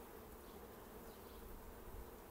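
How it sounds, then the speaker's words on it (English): Dense, steady buzzing of many honeybees at a hive close by, a continuous droning hum with no pauses or voices. "A lot of activity, people wandering around, buzzy bees, busy bees,"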